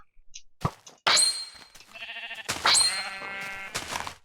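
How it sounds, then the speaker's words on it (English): Sheep bleating in Minecraft, several loud, close bleats in quick succession with short gaps between them. "Yeah, we can shear a sheep."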